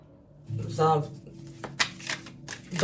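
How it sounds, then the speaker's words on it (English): A deck of tarot cards being shuffled during a reading, with several soft riffling and shuffling bursts and quieter handling noise between them. "You can fast forward when I shuffle because I don't take the cards."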